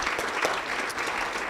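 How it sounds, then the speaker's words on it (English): A round of applause for a university president from an audience at a religious freedom talk, steady dense clapping from a large crowd filling the room. "Let's give him a round of applause."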